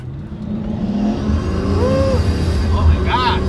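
A Pagani Huayra supercar engine revs loudly on a drive, rising and swelling over a low rumble, close and dominant, with brief tire or road noise and some voices.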